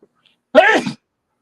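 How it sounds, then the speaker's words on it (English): A single short, sharp sneeze bursts out of near silence, close and loud. "Preventing sneezes."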